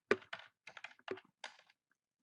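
Keys on a computer keyboard clack in a quick, irregular burst of about a dozen strokes as a website address is typed, close and quiet with no talk.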